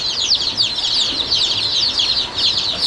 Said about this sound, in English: We're just getting our new batch of meat chickens and another batch of some hens, some egg layers all situated in the metal shed up here